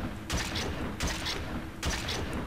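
A Brute shotgun in Halo fires three heavy, booming blasts at an even pace, each with a sharp crack and a brief rattling tail, loud and close.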